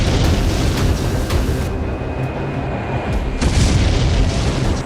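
A missile attack explosion in news footage from Smolensk, Russia: a loud, sustained deep rumbling roar with a heavy low boom throughout, no speech.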